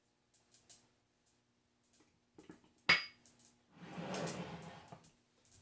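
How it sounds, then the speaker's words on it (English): Quinoa toasting for granola with olive oil and vanilla extract, giving soft scattered pops and clinks, then a sharp knock followed by a denser crackling sizzle, all quiet with no talk. "Now I really hear the quinoa popping"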